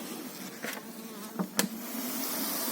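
Honey bees in an opened beehive, topped with a feeder and with its hive bodies full of bees, give a steady, dense buzzing hum throughout, broken by a few brief knocks and clicks near the middle.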